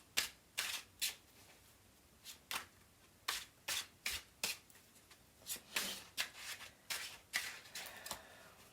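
A foil tarot card deck is shuffled close by in quiet surroundings, giving a series of about twenty quick, crisp riffling bursts in an uneven rhythm.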